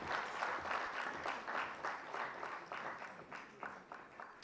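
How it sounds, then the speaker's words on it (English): Audience applause at an award gala, a steady round of clapping from a sizable crowd that holds throughout and thins slightly toward the end. "Round of applause, please, for the second special mention."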